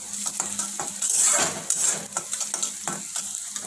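Onions and garlic fry in a pan for a kadhai mushroom dish, giving a steady close sizzle broken by repeated scrapes and clinks of a spoon stirring against the metal, with no voices.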